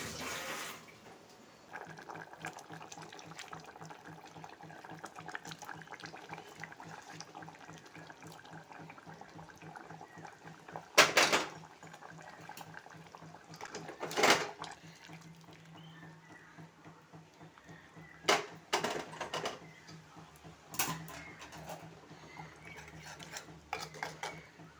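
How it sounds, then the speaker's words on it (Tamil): Dishes being washed in a home kitchen sink: steady running tap water with clinks and clatters of pots, a few sharp knocks standing out, no talking. "அந்த கேப்பில் வந்து பார்த்திங்கன்னா 1, 2 பாத்திரம் சிங்கில் சேர்ந்துருந்தது. அதையும் வந்து கழுவி வச்சுட்டேன்."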